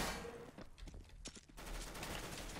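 Rapid automatic gunfire in the video game Counter-Strike: Global Offensive, dense bursts of shots crackling close and loud throughout, with a short break in the middle before the firing resumes.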